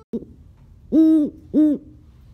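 An owl gives two loud, close hoots, evenly spaced and each about half a second long, after a brief soft sound at the start.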